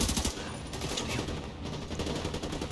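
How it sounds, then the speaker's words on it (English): Rapid bursts of gunfire from The Division 2 video game crackle nonstop, overlapping shots in a dense, chaotic barrage. "Gunfire everywhere!"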